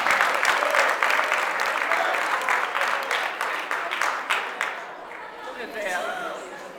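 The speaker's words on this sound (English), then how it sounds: "Let's have a round of applause for the best man, Troy Hutchinson." Wedding guests break into loud, steady applause for the best man, a dense wash of clapping from a roomful of people that thins and fades toward the end as a few voices murmur underneath.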